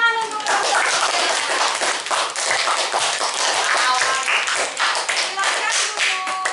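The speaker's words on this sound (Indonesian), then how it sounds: "Tepuk tangan untuk kelompok 3." A classroom of pupils applauds a group of classmates, fast uneven hand claps filling the room continuously and loudly, with children's voices chattering underneath.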